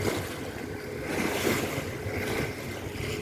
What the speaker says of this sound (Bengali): নূরপুরের লঞ্চটা আগে চলে এলো। পণ্যবাহী জাহাজ মালপত্র নিয়ে চলেছে,